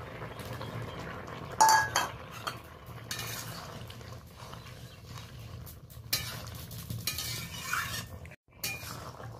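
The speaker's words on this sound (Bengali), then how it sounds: "হালকা করে টকটা একটু নেড়ে নিলাম" Sour jujube (kul) chutney stirred in a pot with a metal spoon: a few clinks and scrapes against the pot sides over a faint simmer, close and moderately quiet, with a brief pause near the end.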